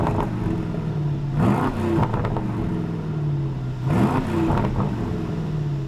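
An Aston Martin DBX with sport exhaust idles with a deep rumble and rises twice in short revving growls, the exhaust note swelling and falling back each time.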